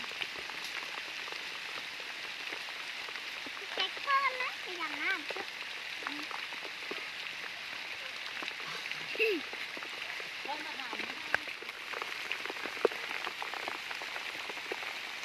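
Heavy rain pours down in a forest, a dense steady hiss of drops on leaves and ground, while someone talks intermittently over it at close range.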